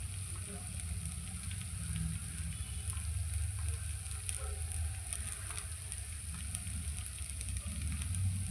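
Rava dosa frying on a pan over a gas flame gives a steady, close sizzle with a low burner rumble underneath, holding continuously from start to finish with no voices.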